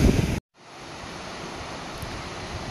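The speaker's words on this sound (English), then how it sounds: "Here's another nice cascade that's coming down from that lake we saw earlier" A mountain stream cascades down from a high alpine lake on the High Sierra Trail, its steady, full rush of water beginning after a brief silent gap and continuing evenly, close by.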